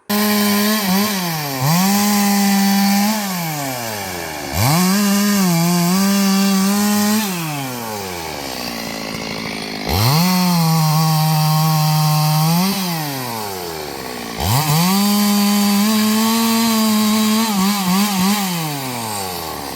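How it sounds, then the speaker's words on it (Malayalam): A loud chainsaw cutting a tree revs repeatedly in four long bursts, its engine whining up and holding steady while cutting, then dropping between cuts. "പിന്നെ മരം മുറിക്കുന്നുണ്ട് കേട്ടോ"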